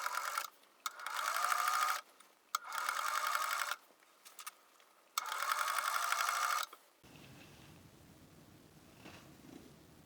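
Sewing machine stitching through all the layers of a flat cap, several bursts of rapid whirring needle runs separated by short pauses, followed by quieter handling.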